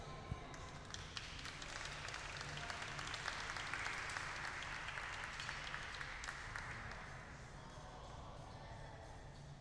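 Audience applause and cheering for a glassblowing hot shop crew during a live demonstration, a dense, continuous patter of clapping at moderate distance that swells and then slowly tapers off.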